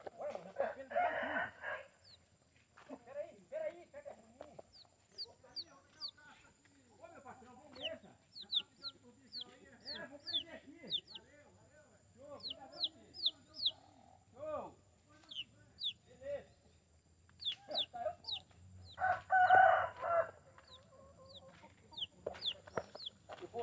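Two roosters and a large hen in a farmyard, with repeated crowing bursts near the start and end, scattered clucks throughout, and people talking quietly in between.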